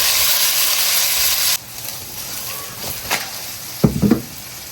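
Beaten egg poured into a hot pan with garlic chives gives a loud, close sizzle that cuts off abruptly, followed by quieter hiss and a few scraping knocks.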